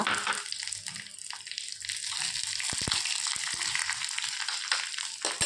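Dried red chili frying in hot oil, a soft crackling sizzle with a few sharp pops and clicks, close but fairly quiet.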